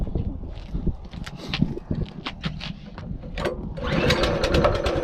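Massimo MB200 minibike engine being pull-started: a few scraping pulls and rough sputters, then the small engine catches and settles into a steady, close running buzz.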